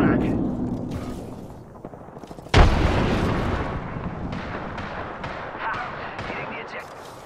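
A frag grenade goes off in a shooting video game: one sudden, heavy blast about a third of the way in, followed by rumbling battle noise, with a player talking throughout.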